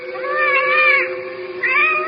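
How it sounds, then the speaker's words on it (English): A cat meows in a long, drawn-out tonal cry, followed by a second shorter rising meow, close and loud, in a radio drama sound effect. "She's only a cat."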